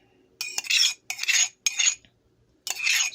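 A utensil scrapes a butter mixture out of a baking dish onto flattened potatoes in four short, bright, scratchy strokes with brief pauses between them, close and clear, with no talking.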